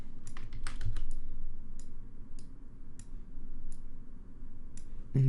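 A computer keyboard is tapped while working in After Effects, a handful of sharp clicks in a quick flurry, then single keystrokes spaced out over low room hum, close by and with no one speaking.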